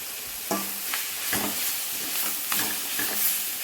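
Drumstick leaves and coconut pieces frying down in a pan, giving a steady sizzle with a few sharp stirring scrapes spaced through it.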